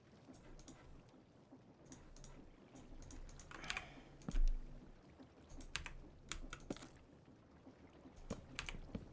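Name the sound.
typing on a computer keyboard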